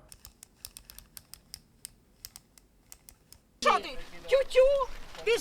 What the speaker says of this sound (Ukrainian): Сам регулятор при обертанні приємно клацає